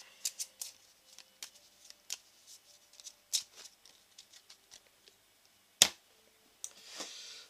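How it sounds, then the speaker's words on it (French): Action card deck from The 7th Continent board game being reshuffled: quiet, close riffling card snaps and soft pattering shuffles in uneven bursts, with one sharp louder snap near the end and no voices. "On va remélanger."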